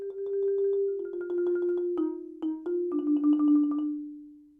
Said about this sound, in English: So at measure 12, you'll play a piano roll.